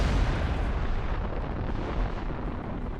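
Germany's World War I Paris Gun, a huge Krupp cannon built from three barrels welded end to end, gives a loud, sustained low rumble that fills the whole span with no distinct separate shots.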